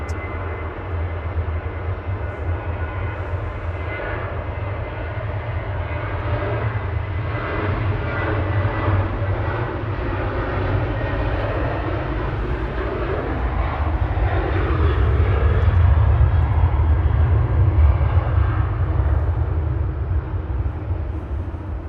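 A TUI airliner on its takeoff roll at Manchester Airport, bound for Verona as flight 2628, gives a loud continuous jet roar that swells steadily, peaks near the end and stays dominant throughout.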